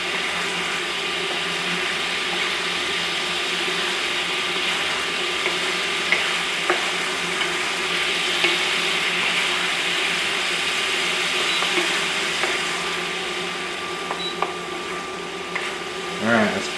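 Spatula dragged across a hot pan as the liquid for chicken piccata reduces, a constant bright sizzle with faint scraping strokes throughout.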